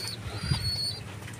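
A female racing pigeon coos softly and close by, a low throaty murmur with faint fluttering and background noise.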